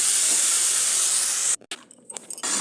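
Potato and flour snacks fry in hot oil with a loud, steady sizzle that runs for about a second and a half. It then cuts off abruptly, leaving quieter scattered clatter and a brief return of the hiss.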